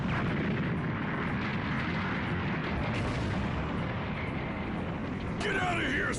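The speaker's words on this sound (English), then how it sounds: "Oh, it's the light grenade, baby." A Light Grenade energy attack from Dragon Ball Z: Kakarot, in the Cell saga, detonates as a loud, sustained roaring blast filling the whole stretch, with a voice speaking over it.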